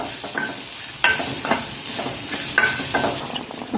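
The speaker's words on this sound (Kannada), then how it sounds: "ತೆಂಗಿನ ತುರಿದು ಸ್ವಲ್ಪ ಕಲರ್ ಚೇಂಜ್ ಆಗುವವರೆಗೆ ಉರಿಬೇಕು" Grated coconut and garlic frying in oil with curry leaves for a chickpea and elephant-foot-yam kurma: a steady close sizzle broken by repeated scraping stirs of a spoon in the pan.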